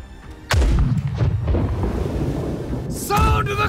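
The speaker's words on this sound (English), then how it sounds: "Sound of the cannons!" Cannons in the pirate ship battle game Blackwake fire as a sudden heavy boom that rumbles on and then a second sharp blast, loud and close, with shouting voices over it.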